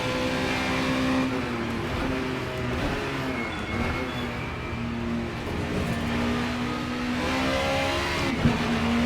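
A Super Touring race car in Assetto Corsa at Donington holds a steady, loud engine drone throughout, pitch wavering slightly with throttle changes and a faint tyre scrub near the end.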